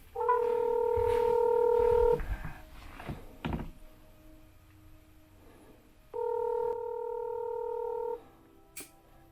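Telephone keypad tones sound while a call is placed to a homeowner during a paranormal investigation in Portage, Pennsylvania. Two loud, steady bursts of dual-tone dialing sound, each lasting about two seconds, separated by quieter background thuds and room noise.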